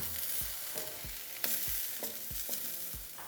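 Quesadilla with queso Oaxaca cheese melting in a hot pan, giving a steady close sizzle and frying hiss with soft rhythmic scraping or stirring strokes underneath.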